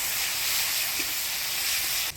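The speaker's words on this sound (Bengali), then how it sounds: "এবার এই তেলের মধ্যেই ফোড়নে দিয়ে দেবো শুকনো লঙ্কা, গোটা জিরা, তেজপাতা।" Dry red chilies, whole cumin and bay leaves sizzle in hot oil for a tempering in village-style Bengali cooking, a loud steady hiss filling the whole stretch before cutting off abruptly at the end.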